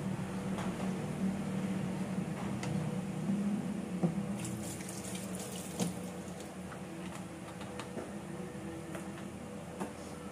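Tap water running steadily into a pot in a home kitchen, a soft continuous hiss and trickle heard from close by with faint background hum.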